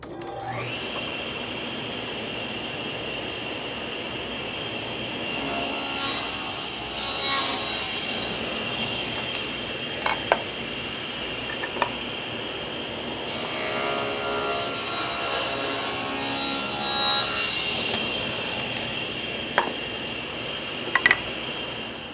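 A table saw cuts four wooden pieces against its fence in one pass, with the blade running in a steady whine and repeated louder cutting surges plus a few sharp clicks, with no talking.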